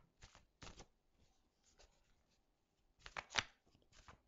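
Tarot cards are shuffled and drawn during a reading, giving short papery riffles and slaps in small bursts close to the microphone, with quiet pauses between them and no talking.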